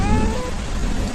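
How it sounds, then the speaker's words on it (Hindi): Dense rain pours steadily throughout a short moment in a narrated story, with a faint tonal trace early on over the continuous hiss. "बारिश रुकने का नाम ही नहीं ले रही थी"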